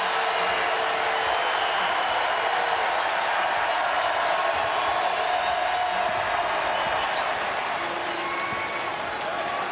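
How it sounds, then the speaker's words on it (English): Crowd noise rises in the Blacksburg arena during a West Virginia at Virginia Tech college basketball game, a continuous roar of cheering and clapping with occasional shoe squeaks and faint commentary underneath. "And here comes the crowd in Blacksburg."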